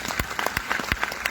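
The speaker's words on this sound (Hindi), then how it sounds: "जाओ तब तक बैठो ताली बजाओ" An audience at a training event in Vadodara claps loudly in a dense, steady round of applause. Many overlapping close hand claps fill the short stretch.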